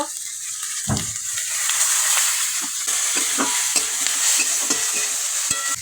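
Dried chillies, five-spice, chopped onion and curry leaves frying in hot oil, a steady bright sizzle with occasional clinks and stirring scrapes, close and continuous.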